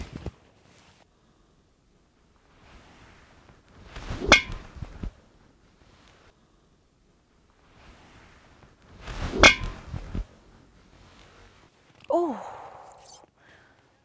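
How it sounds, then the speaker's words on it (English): Golf driver striking a golf ball, two sharp clean impacts several seconds apart in a quiet setting, each followed by faint swishing, with brief talk near the end. "let's go ahead and hit the golf ball using this"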